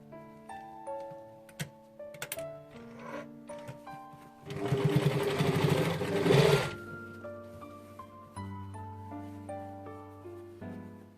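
A sewing machine stitches the round sleeve of a gathered-waist dress, running in one steady whirring burst of about two seconds, with melodic background music playing before and after.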